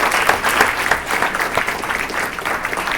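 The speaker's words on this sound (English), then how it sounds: "can we please give our students a round of applause?" An audience at a student leadership summit claps for students' academic achievements, brisk, lively applause with distinct individual claps close by, steady for a few seconds.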